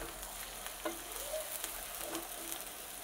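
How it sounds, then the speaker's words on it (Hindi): Onions frying in mustard oil in a pan until golden brown, a steady close sizzle with faint occasional stirring clinks, no voices. "सबसे पहले हम अपनी अनियन को गोल्डन ब्राउन होने तक फ्राई कर लेंगे।"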